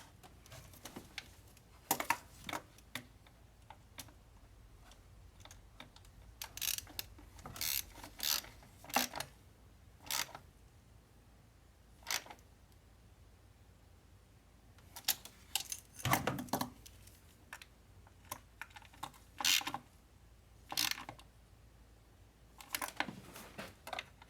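Bolts being tightened on the intake manifold of a VW Tiguan during a water pump and intake manifold replacement, heard as irregular bursts of sharp ratchet clicks with short pauses between them, close and fairly quiet, with no talking.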